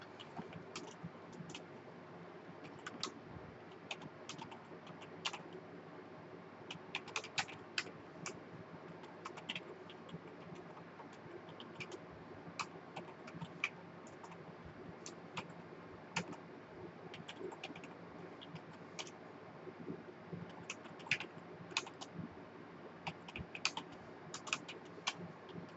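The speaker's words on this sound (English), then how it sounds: "And let's type it in." Someone types on a Commodore 64 keyboard with irregular, fairly quiet key clicks in bursts and pauses, close and with no talking.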